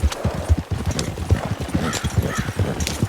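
Horse hooves gallop in Red Dead Redemption 2 during a winter endurance race, a steady, close, rhythmic clip-clop with occasional faint whinnies.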